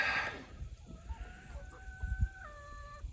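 Chickens clucking close by at a backyard coop near goats and a mobile home, a burst of noise at the start giving way to steady, drawn-out clucks and calls over faint background rumble.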